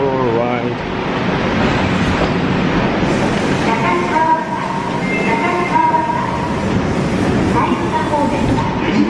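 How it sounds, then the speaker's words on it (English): A train pulling into Hakata Station in Fukuoka, a steady rumble of wheels and rail noise filling the platform throughout, with brief tonal squeals or chimes, while people talk nearby. "Train is coming."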